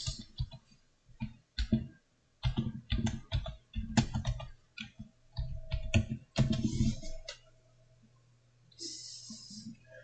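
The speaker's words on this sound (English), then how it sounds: "let's just type it in" Keys clacking on a computer keyboard in irregular bursts of quick clicks, close and crisp, with brief pauses between runs and a faint hum afterwards.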